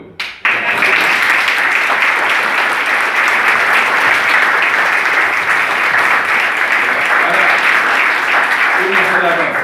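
Sustained loud applause from a crowd at the close of university student presentations, steady clapping that starts abruptly and continues without pause, with a faint voice near the end.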